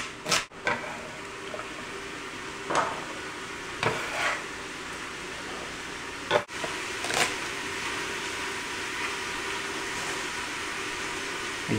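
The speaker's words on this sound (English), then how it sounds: "you can hear the meat sizzling in the background" Steady low frying hiss of ground meat in a pan, with a few sharp clinks and scrapes of utensils breaking through now and then.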